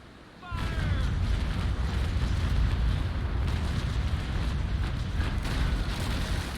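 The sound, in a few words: cannon broadside firing in Naval Action video game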